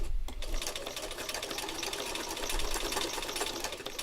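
A sewing machine stitches fabric in one continuous, even whir with a rapid mechanical rhythm, close by and steady, with no voices.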